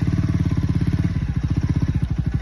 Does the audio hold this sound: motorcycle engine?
yes